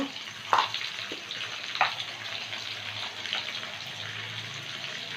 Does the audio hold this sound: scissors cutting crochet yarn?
no